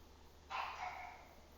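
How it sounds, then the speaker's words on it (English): A single burst of barking from pugs in the background, muffled and moderately faint, dying away over about a second in a quiet indoor space. "Yeah, you can definitely hear them barking"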